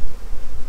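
A honeybee swarm being pushed down into a new hive box gives a loud, dense buzz, close and continuous through a brief moment with no voices.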